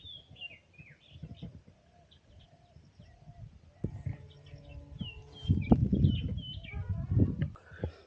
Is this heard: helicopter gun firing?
no